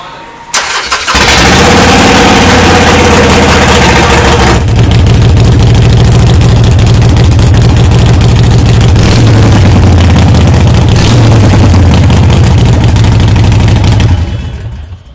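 A Harley-Davidson Iron 883 motorcycle with a short exhaust fires up and idles loudly and close by, its deep, lumpy rumble holding steady for over ten seconds before cutting off.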